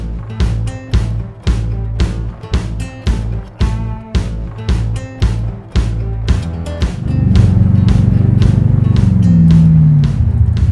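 An LS3-powered 1980 Trans Am restomod out on a cruise: loud, close engine with rhythmic revving pulses and gear changes, then a sustained deep roar under acceleration.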